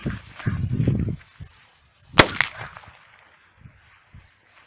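A single sharp, loud bang from a small piccolo-type firecracker cracks out after some low rustling, followed by a brief fizzing tail and a few faint small pops.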